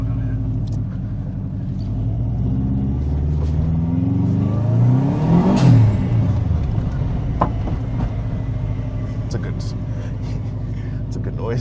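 A cheap used Subaru WRX engine revs hard during rally driving, a rough, loud rumble that swells to a strained peak midway and then settles, heard from inside the car.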